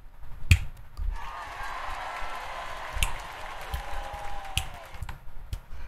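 Crisp finger snaps during a livestream, several sharp isolated clicks spaced a second or more apart over a low hum of background sound.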